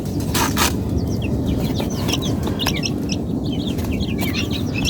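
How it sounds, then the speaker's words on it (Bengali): Brahma chickens and their chicks in a coop make continuous close clucking, while the chicks add rapid high chirps over a steady background hum. "এই যে ব্রাহ্মা মুরগির বাচ্চা"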